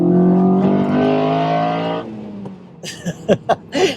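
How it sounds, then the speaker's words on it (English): A Honda Accord Euro R CL7 with a K20A VTEC engine revs hard for about two seconds, a loud, rising high-pitched scream that then drops away, followed by a few brief bursts of sound. "That VTEC sounds amazing."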